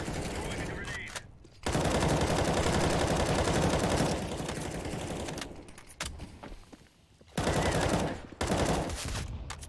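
Counter-Strike gunfire comes in long, loud bursts of rapid automatic shots separated by short quieter gaps, with a few single cracks. A voice can be heard briefly beneath the shooting.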